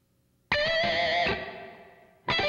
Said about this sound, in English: Using this reverb mix slider over here, we can go between the tail and the early reflection.